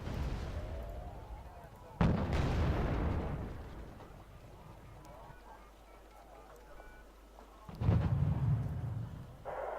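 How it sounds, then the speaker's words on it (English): Heavy artillery barrages in the strategy game Wargame Red Dragon, with two booming blasts a few seconds apart, each followed by a long rumbling decay, loud and close. "Get a few barrages off and then we'll move again."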